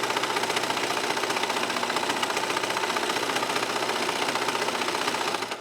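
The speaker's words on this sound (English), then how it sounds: "You want everything to end up serging together." A serger stitching flimsy towel fabric around a curved edge, running in one continuous fast, rhythmic mechanical chatter at close range before stopping abruptly.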